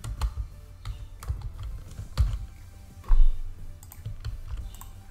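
Close computer keyboard typing while writing a code comment, irregular bursts of clattering keystrokes with short pauses between, no talking.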